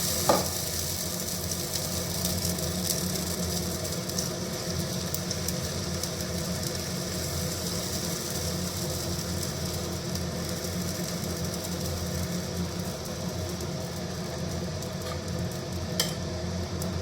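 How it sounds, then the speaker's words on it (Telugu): Pesarattu, a moong dal crepe, sizzles steadily in a hot oiled pan, a continuous dense frying hiss with no talk. "పెసరట్టు ఇలా వేసుకొని కాలనివ్వాలి."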